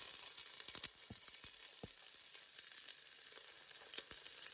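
Onions and peppers sizzle in hot olive oil in a cast iron Dutch oven, a soft, steady hiss with a few sharp spits and crackles, fairly faint.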